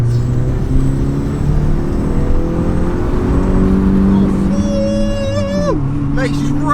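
A car fitted with a cheap power modification accelerates hard at full throttle in second gear, its engine note climbing steadily and loudly before a shift, with people talking over it inside the cabin.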